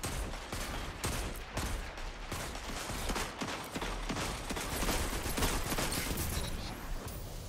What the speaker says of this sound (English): this auto rifle feels great